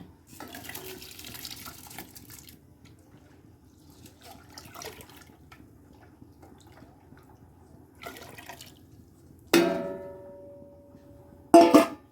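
Water gurgles and splashes into a cooking pot in a home kitchen, first as soft trickles amid quiet clatter, then two louder pouring bursts near the end.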